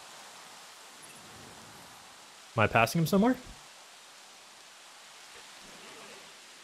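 Soft, constant rain patters across a Jurassic World Evolution park, a low wash of noise that runs through the whole stretch while someone briefly speaks over it midway.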